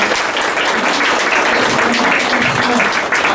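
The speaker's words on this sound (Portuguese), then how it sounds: "Uma salva de palmas para a família." A small gathering applauds a family during a Catholic mass held inside a home, with steady, close clapping throughout and some voices mixed in.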